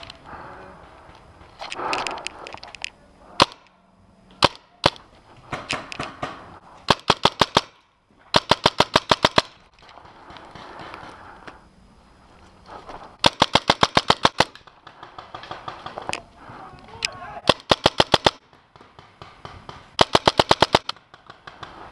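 Paintball marker firing in rapid bursts during a paintball game, sharp clustered pops in repeated volleys with brief pauses and a lone shot between, loud and close with no talking.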